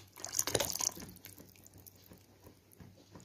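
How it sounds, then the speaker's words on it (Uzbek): Melted butter poured into churrak dough, a soft dribbling, dripping pour near the microphone that is strongest early, then settles into faint wet trickles and small squelches with no talk. "Eritilgan sariyog'imizni ham quyib olamiz."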